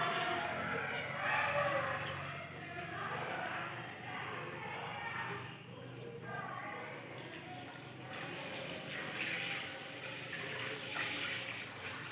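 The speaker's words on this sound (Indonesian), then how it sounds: "kita mencuci tangan dengan 6 langkah di bawah air mengalir" Tap water runs steadily while hands rub and splash beneath it during a six-step handwash, a continuous close wash with shifting splashy texture and a faint voice in the background.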